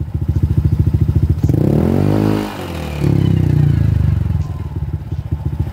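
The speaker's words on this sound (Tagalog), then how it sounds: "Mayroon siyang ingay dito sa may kanyang gulong." Honda ADV150 scooter at 41,000 km, wheel noise from a worn torque drive bearing: a loud, close, rhythmic engine chug that rises into a revving whine with scraping, clattering undertones, then settles back to a pulsing idle.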